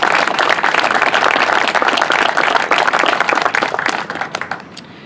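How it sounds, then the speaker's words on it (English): Outdoor crowd applause at a ribbon cutting ceremony for a watershed project, loud dense clapping from many people that holds steady, then thins to scattered claps near the end. "So let's have a round of applause for the partners here who made this happen."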